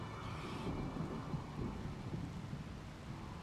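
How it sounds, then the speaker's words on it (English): Rainy thunderstorm in the video game RimWorld: a deep, continuous rumble of thunder under steady rain hiss, moderately loud and alone. "Oh, a rainy thunderstorm."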